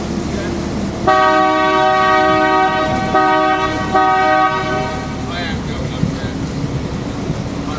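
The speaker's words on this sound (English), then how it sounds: "I'm just going to sound the horn, so don't jump." A loud American truck-style horn fitted to a canal boat sounds in three long blasts, the first the longest, each a rich sustained multi-tone chord, with talk and ambient noise around them.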